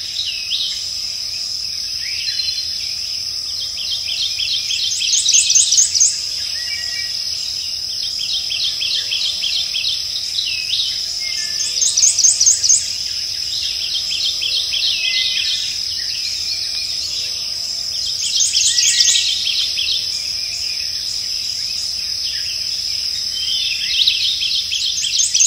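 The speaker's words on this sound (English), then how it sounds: "the dawn chorus, which occurs just after sunlight every single day, it is an amazing thing to witness here" Dawn chorus in the Atchafalaya Basin, a dense, steady wash of high insect trilling and bird chirps. Louder bursts of calling swell every few seconds over a quiet, low background.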